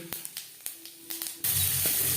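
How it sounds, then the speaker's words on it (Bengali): Whole cumin seeds drop into hot oil left in a wok after frying lentil dumplings, setting off a sudden loud, steady sizzle that follows a few light taps and clinks. "দিয়ে দিলাম গোটা জিরে"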